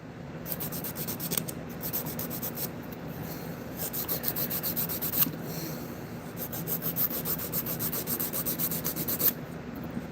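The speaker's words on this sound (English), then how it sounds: "I'm doing all this filing" Acrylic nails are filed down by hand with quick, repeated scratchy rubbing strokes at close range. The gritty rasp continues throughout with brief pauses, and there is no talk.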